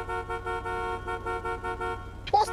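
A video game car horn sounds in a rapid pulsing series of honks, loud and near, cut off by a short sharp noise at the end.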